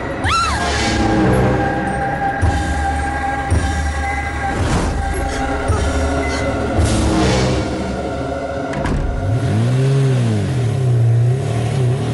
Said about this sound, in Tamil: மோகன், வண்டியை சீக்கிரம் ஸ்டார்ட் பண்ணு